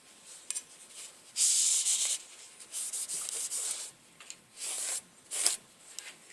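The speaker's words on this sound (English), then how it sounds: "just take a small rag and clean that off" A small rag wiping clean the blade of a Wicked Tree Gear folding saw, several close rubbing strokes in short bursts of varying length, with quiet gaps between.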